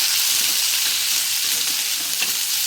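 Onion with garlic-cumin paste sautéing in a pan, a steady close sizzle with faint scraping stirs running throughout, no voices.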